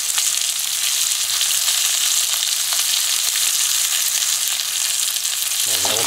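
Dehydrated vegetables hit a hot frying pan alongside steak, giving a continuous bright sizzle with faint stirring scrapes throughout, close and steady, with no talking.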